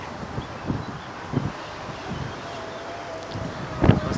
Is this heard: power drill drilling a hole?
no